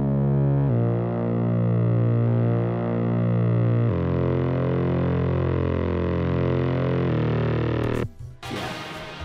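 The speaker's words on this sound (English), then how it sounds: "That low thick bass is back. Filtered, of course." A deep, thick synth bass with a filtered, buzzy tone sustains and shifts pitch a few times before cutting off into a brief noisy burst.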